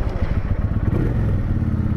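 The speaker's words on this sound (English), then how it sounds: "Starts up real easy." A 2010 Kawasaki Vulcan 900 Classic motorcycle with a Lehman trike kit and low miles runs close by, a steady, smooth low rumble throughout.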